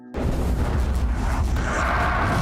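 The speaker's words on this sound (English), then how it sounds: "A massive explosion then rocks the entire floor" A massive explosion rocks a shopping mall in a demon horror film, erupting suddenly into a loud, deep, sustained roar with rumbling low end that fills the whole moment.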